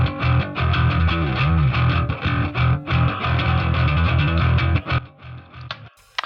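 Distorted bass guitar grinds through a chugging riff, close and full, with rhythmic stops and accents, then breaks off into near silence at the end.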